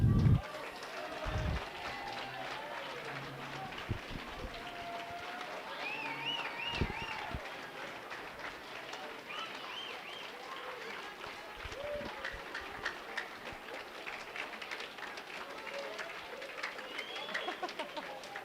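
An awards-night audience at a lacrosse banquet breaks into steady, sustained applause, the clapping spreading evenly through the room for a long stretch with a few louder thumps and murmurs near the start.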